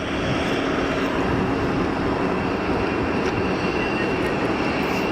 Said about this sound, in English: EasyJet lined up for departure.